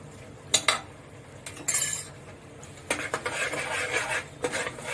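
Biryani masala being stirred into rice in a pot, with a spoon clinking and scraping against the metal in several short bursts followed by a longer stretch of steady stirring, close and fairly loud.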